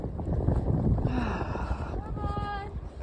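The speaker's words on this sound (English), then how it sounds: "But it is windy and snowy right now and deep." Wind blows across a deep, snowy field on a winter evening, a steady broadband rush with gusty rumble near the microphone; a voice speaks over it.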